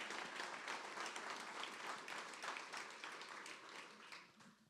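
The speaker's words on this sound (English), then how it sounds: "So again, round of applause for all our law enforcement community." An audience at a city State of the City address applauds its law enforcement community, steady dense clapping filling the room for several seconds before thinning slightly toward the end.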